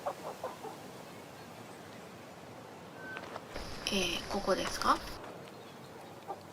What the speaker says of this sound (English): What is that sound coming from that barrel? Cheap, cheap, cheap, I think it is. A green chick.